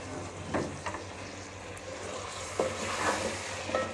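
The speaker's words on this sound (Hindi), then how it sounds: "और 3 से 4 मिनट के लिए सारी चीज़ें हम फ्राई कर लेते हैं" Potatoes frying with spices and yogurt in a pot, a soft steady sizzle with occasional stirring scrapes, fairly quiet and with no talking.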